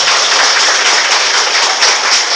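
Church congregation applauding during a Catholic sermon, a dense, steady wash of many hands clapping throughout, loud and close with no talk over it.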